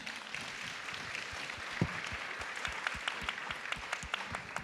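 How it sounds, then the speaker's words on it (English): Audience at an International Women's Day youth diplomacy forum in Los Angeles breaks into applause, a soft, even patter of many hands clapping at some distance with no talk over it. "Yes, you can clap."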